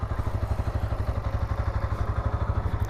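A 2025 Bajaj Pulsar N125 motorcycle engine thumps along at low revs with a steady, rhythmic pulsing beat, close and moderately loud.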